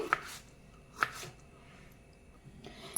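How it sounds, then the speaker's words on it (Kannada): Tomato being chopped finely with a knife on a board for homemade papad masala, giving a few sharp, close knife taps with quiet gaps between them. "ಟೊಮೆಟೊ ಕೂಡ ನಾವು ಸಣ್ಣದಾಗಿ ಎಷ್ಟು ಸಣ್ಣದಾಗುತ್ತೋ ಅಷ್ಟು ಸಣ್ಣದಾಗಿ ಕಟ್ ಮಾಡ್ಕೊಳ್ಳಿ ಚೆನ್ನಾಗಿ"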